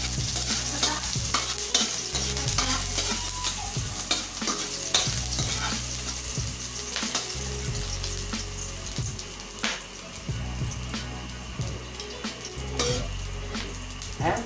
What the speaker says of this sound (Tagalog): ang unang igigisa ko ay itong ginger